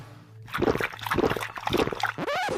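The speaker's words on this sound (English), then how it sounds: "We've poured our plaster into the mould." Liquid plaster pours and splashes into a mould in short sloshing bursts, close and fairly quiet, ending in a gurgling trickle.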